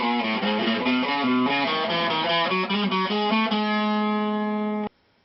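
Electric guitar with effects and distortion plays a part of a song, a sequence of sustained, layered notes changing steadily before a held chord, which cuts off abruptly near the end.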